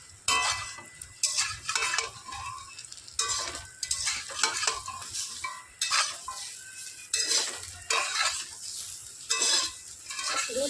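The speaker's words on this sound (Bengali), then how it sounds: "এবার নাড়াচাড়া করে একটু হালকা করে ভেজে নেব।" Raw mango pieces stirred and lightly fried in oil in a pan: repeated rhythmic scraping strokes from a utensil over a soft sizzle, close by with no talking.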